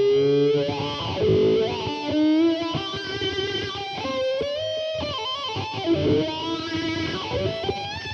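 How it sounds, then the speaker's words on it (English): A Yamaha YEV 105 electric violin plays a fuzzy, distorted melody through fuzz and wah pedals with a sweeping wah effect, bending and sliding between notes. "play a fuzz pedal along with a wah-wah sound"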